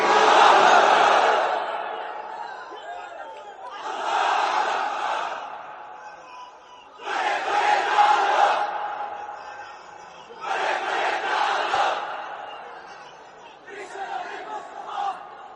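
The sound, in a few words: crowd shouting takbir, Allahu Akbar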